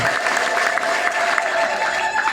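A church congregation claps for the Lord, a dense burst of applause with a bit of crowd noise that carries on steadily and fairly loud for a couple of seconds.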